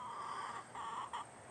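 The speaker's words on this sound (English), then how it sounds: "These chickens, a couple of chickens," A couple of chickens scratching in dirt at the base of a feeding tree give soft, faint clucks in three short bursts, with no talking.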